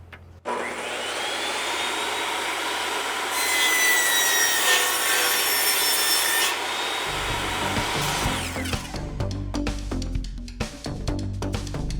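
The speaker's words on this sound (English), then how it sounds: "we're going to cut some angle joints." A saw cutting angle joints in wood boards set in a jig, a loud sustained whine with a steady rasping cut that stops about halfway, followed by clattering and handling noises.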